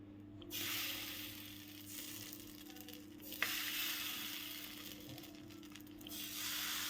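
Dosa batter and oil sizzle on a hot pan, a steady close frying hiss that swells and dips, with a sharp click of a utensil partway through.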